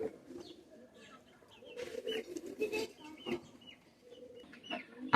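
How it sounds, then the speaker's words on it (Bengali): Pakistani master bloodline pigeons, a breeding pair, coo and murmur in low soft bursts close by, with fluttery rustles and a brief louder call near the end, no talking. "আর একটু দেখেন কবুতর জোড়া"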